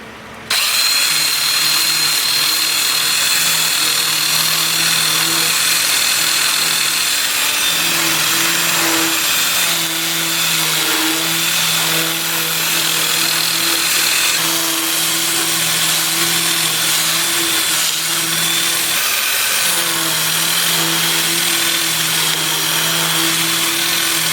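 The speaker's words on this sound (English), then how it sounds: "I'll switch to my 2-inch disc starting at 120 grit. I'll have the lathe spinning in reverse for that at about 360 RPM." A wood lathe spinning in reverse at about 360 RPM while a 2-inch sanding disc at 120 grit works the turning, a loud continuous motor whine and abrasive hiss that holds steady for the whole stretch with no talk.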